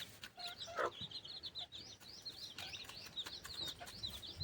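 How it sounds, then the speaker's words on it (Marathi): Native country hens on a village poultry farm, a run of short high clucks and chirps repeating steadily near the listener over a rustling outdoor background. "गावठी कोंबडी आहे प्युअर गावरान कोंबडी आहे"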